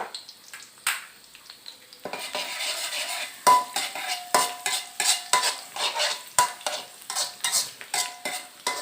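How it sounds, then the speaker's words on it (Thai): Minced garlic dropped into hot oil in a wok for pork pad see ew, hissing in a continuous sizzle broken by steady rhythmic scrapes of a spatula against the pan, close and lively. "พอน้ำมันได้ที่แล้วก็ใส่กระเทียมสับไปเลยครับ"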